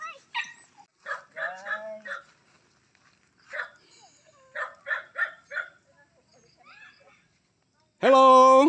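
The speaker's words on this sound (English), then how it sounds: "A dog!" A dog at a mountain farm house gives several barks and yelps among people talking and calling out, ending with one loud, close, sharp bark.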